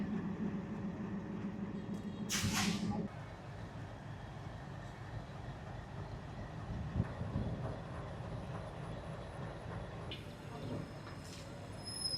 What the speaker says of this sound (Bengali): লোকোমেটিভ শান্টিং হচ্ছে আবার ইঞ্জিন ঘুরিয়ে চলে যাবে রাজশাহীর উদ্দেশ্যে